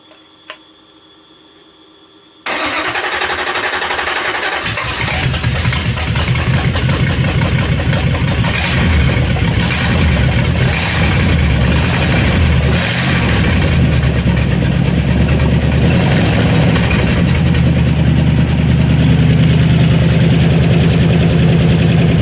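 After a quiet moment, a Mopar 318 V8 engine with a rebuilt Thermoquad carburetor, solidly mounted on a cart, cranks and fires up, settling into a loud, steady, rumbling, slightly high idle that continues close by.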